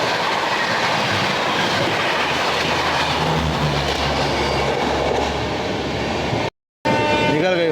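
An Amrit Bharat Express train overtakes alongside, its steady rushing rumble carrying rhythmic clickety-clack of wheels on rail joints, loud and close, with a brief dropout and a horn-like tone near the end.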